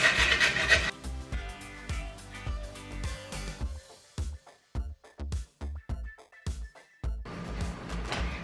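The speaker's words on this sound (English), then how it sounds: "using sort of the smaller grater, I'm gonna grate my carrots in with my bananas" Carrots are rubbed against a small hand grater into mashed bananas for flourless breakfast muffins, giving close, quiet rasping strokes in an uneven rhythm, first continuous and then in short separate bursts with brief pauses between them.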